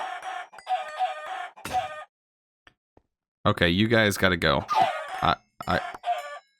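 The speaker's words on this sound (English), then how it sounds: "There's too many chickens." Several chickens in a Minecraft modpack skyblock world cluck and squawk in loud, close bursts, with a crowded flurry of overlapping calls after a short pause; someone speaks briefly over them.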